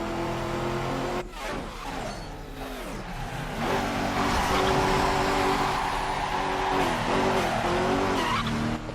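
Car skidding with tire squeal and a revving engine in the Midnight Club 3: DUB Edition Remix racing game, sliding through Tokyo streets and grinding against a pillar, sustained and loud with a brief dip then steady engine drone.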